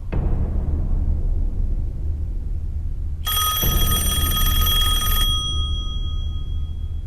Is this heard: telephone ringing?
yes